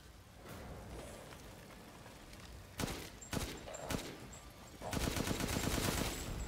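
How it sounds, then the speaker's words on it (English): Rapid weapon fire in Resident Evil Village, with bursts of fast gunshots that grow into a dense, sustained volley near the end, set against quieter game ambience. "Whoa, I can shoot so fast."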